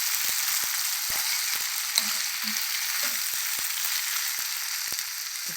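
Broad beans and tomato curry sizzle steadily in a pan, with repeated sharp scrapes and taps of a spoon stirring through the soft, continuous frying hiss.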